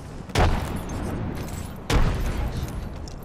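Two loud booms from frag grenades exploding in a battle-royale shooter game, spaced about a second and a half apart, each a sharp blast with a lingering rumble.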